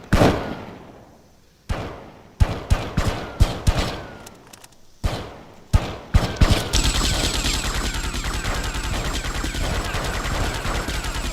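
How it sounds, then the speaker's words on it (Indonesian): Gunfire at a shooting practice range in the video game GTA Vice City Stories: scattered single shots ring out first, then give way to sustained rapid automatic fire that runs loud and continuous to the end. "Oh, ini latihan nembak."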